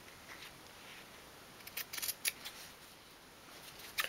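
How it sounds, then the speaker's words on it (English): Scissors snipping fabric corners for a 1/12 scale dollhouse sofa, a few quick, faint, close crisp cuts in a small cluster, then one more near the end, otherwise quiet. "just go in with your scissors like that and cut away each corner"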